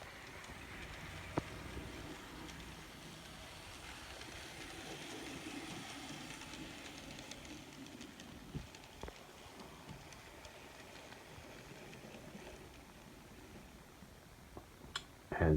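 An old N scale Con-Cor 4-6-4 model steam locomotive runs smoothly on track with a steady, soft rolling rumble and faint clicks, close by, with no talk.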